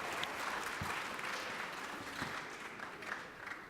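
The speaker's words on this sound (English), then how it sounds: "Give him a round of applause." Audience at a startup pitch competition clapping for a founder taking the stage, a dense, steady patter of many hands that stays even and moderately loud throughout.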